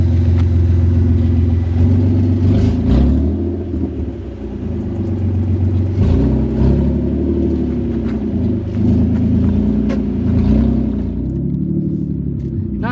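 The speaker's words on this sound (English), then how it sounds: "figured why not take it for a drive just to make sure there's no like really weird noises" A car on a test drive after having its lug nuts fitted rumbles steadily up close, engine note rising and falling with gentle revving throughout, no voices over it.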